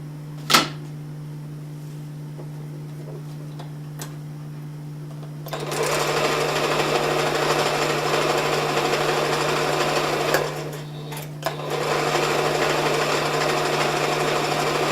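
A sewing machine stitching pillow fabric starts after a brief clack and runs in a steady, fairly loud whir, stopping briefly midway before resuming, over a constant low electrical hum.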